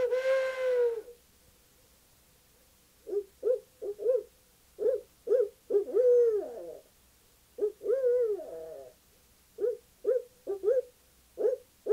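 A human voice imitates owl hoots to locate turkeys, delivering rhythmic series of short hooting notes with a few longer wavering calls, clear against a quiet background.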